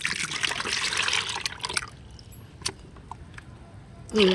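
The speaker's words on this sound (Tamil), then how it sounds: "இப்போ ஒரு மக்கு எடுத்து இந்த பக்கெட்டில் ஊற்றிக்குவோம்" Liquid fertilizer poured from a mug into a bucket, a broad splashing pour for about two seconds that fades into quiet dripping and faint handling noises, with a brief voice near the end.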